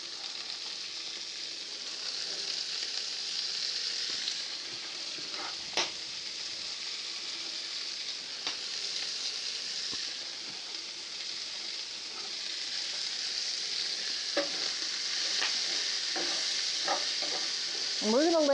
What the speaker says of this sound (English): and then we add the leeks in with the bacon.